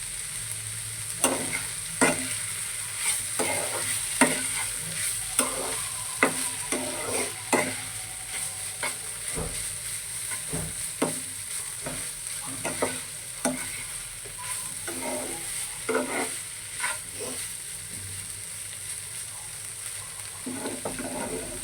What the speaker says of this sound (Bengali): আমার ফুলকপি ভাজিটা কিন্তু প্রায় শেষের দিকে হয়ে আসছে।